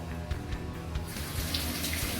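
Tap water runs from a kitchen faucet, first a faint trickle, then a fuller, steady splashing stream into the sink, close by with no talk.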